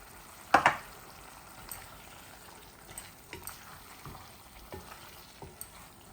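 Tarka dal with chopped tomatoes frying in a pan while a spoon stirs it, giving a soft, steady sizzle and quiet scraping strokes, with one louder clatter near the start.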